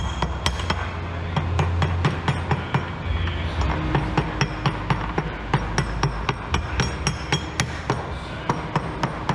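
Repeated hammer strikes drive carriage bolts into a wooden floating dock, a steady run of sharp metallic blows close by, about two per second, ringing over a low background rumble.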